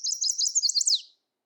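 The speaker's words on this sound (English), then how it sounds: "the chestnut-sided warbler." Chestnut-sided warbler song, a bright, high run of quick chirping notes ending in an emphatic downslurred flourish, clear and close, then silence.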